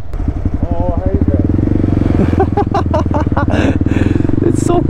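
Honda Grom motorcycle engine running close by with a steady buzzy idle-to-low rev putter throughout, while people talk over it.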